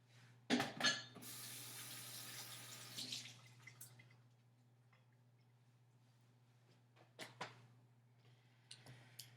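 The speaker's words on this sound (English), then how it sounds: "I'm just going to wash my hands." Hands scrubbed under a running kitchen tap at a sink while making paska, a short gush of water with rubbing and splashing, then quiet with a low hum and a few soft clicks and knocks.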